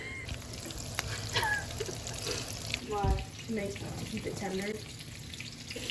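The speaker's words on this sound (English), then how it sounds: "Oh, listen to this The shrimp. sizzle." Breaded shrimp fry in hot oil with a soft, continuous sizzle and crackle. People talk and exclaim over it close by.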